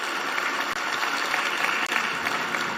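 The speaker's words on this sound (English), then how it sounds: "A big round of applause for this beautiful result." Sustained applause from a large audience, an even wash of many hands clapping without pause.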